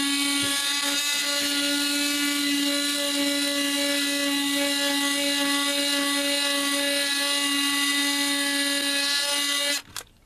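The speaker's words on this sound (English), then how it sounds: "I'm gonna use this multi-tool, which is really not the right tool for this" A multi-tool grinds bare metal on a 1996 Chevy Tahoe body to make a ground point for a dual Optima Yellowtop battery setup, a loud steady high whine held for nearly ten seconds before cutting off abruptly at the end.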